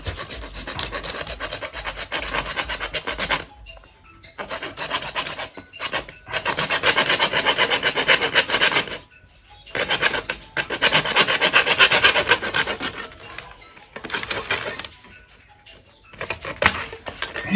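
An object is cut by hand with rhythmic rasping strokes, loud and close, coming in bursts separated by short pauses.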